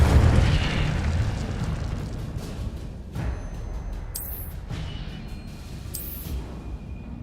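Incendio fire spell blasts in the video game Hogwarts Legacy, a rumbling, whooshing fiery burst that fades into a lower roar, with a couple of brief sharp magical zaps cutting through.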